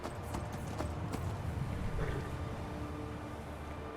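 Horses' hooves clip-clop steadily through a Skyrim Special Edition game scene, a continuous busy rumble with wind and ambient noise layered over the rhythmic steps.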